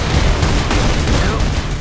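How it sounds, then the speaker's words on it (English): A large flat cannon fires in Saints Row IV, a rapid barrage of loud booming shots and bursts over a thick low rumble, with a shouting voice partly mixed in. "please tell me I get to fire this. Yes, I do! It's like a fucking big flat cannon!"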